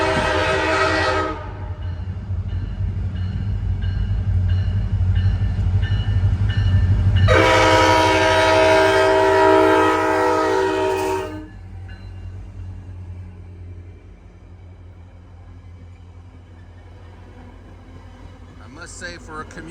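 A commuter train in Washington, D.C. rumbles close by while its horn blasts in two long sounds, then the roar fades into a quieter distant rumble, with faint talking.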